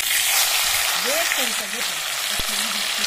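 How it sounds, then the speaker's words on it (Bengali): Mustard oil left over from frying fish hisses and sizzles steadily as dried chili and black cumin go in for tempering, a dense, close frying noise throughout with faint tonal sounds layered over it. "মাছ ভাজা তেলের মধ্যে একটু সর্ষের তেল দিয়ে দিচ্ছি, শুকনো লঙ্কা একটা ফাটিয়ে দিয়ে দিচ্ছি, কালো জিরে দিয়ে দিচ্ছি ফোড়নে"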